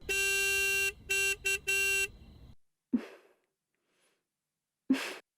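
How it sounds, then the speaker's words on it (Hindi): A car horn sounds outside, first in one long blast, then three short beeps and another long one, all loud and harmonic. After a pause come a couple of short breathy snorts or rustles. Nobody speaks. "सुनो, देखो कोई बाहर हॉर्न बजा रहा है।"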